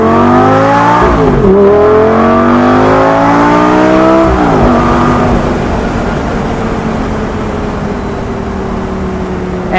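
A 2007 Lamborghini Gallardo, a ten-year-old car, is revved hard twice: loud rising engine howls that drop away sharply, then settle into a lower steady drone, close and with no talk.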